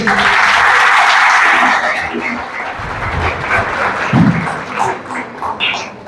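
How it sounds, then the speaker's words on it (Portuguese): An audience at a Spiritist lecture claps for the speaker, a burst of applause at the start that thins out into scattered claps and murmuring. "palmas para ele"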